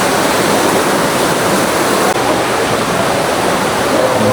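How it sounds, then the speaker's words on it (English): An indoor waterfall inside an aquarium building in Chattanooga, a constant close rushing roar of falling water that stays even and loud throughout. "Got a beautiful waterfall right inside."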